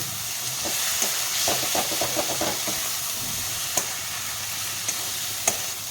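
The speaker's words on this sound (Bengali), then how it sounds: "এখানে আমি আলুটা মশলার সাথে একটু কষিয়ে নেব" Fried potatoes sautéed with spices in a pan while cooking a fish curry, a constant close hissing sizzle broken by a few scraping stirs and sharp spatula knocks, no speech.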